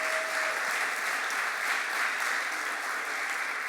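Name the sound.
audience applause for honorees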